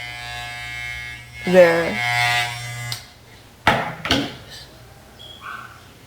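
An electric clipper shaving off a boy's hair makes a steady, close buzzing hum for about three seconds, followed by a few sharp knocks and brief voices.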